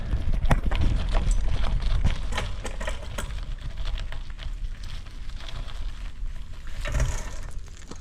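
A 1972 Schwinn Varsity 10-speed bicycle rolling over a gravel road, giving a continuous loud crunching rumble with irregular jolts and rattles from the bumpy surface throughout.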